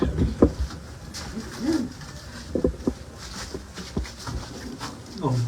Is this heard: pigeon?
yes